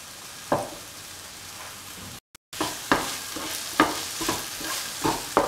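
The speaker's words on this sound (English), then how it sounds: "keep on stirring and sauteing until the ingredients are well incorporated" Okra masala rice being stirred and sautéed in a pan, a soft continuous sizzle punctuated by regular spatula scrapes about once a second, with a brief dropout partway through.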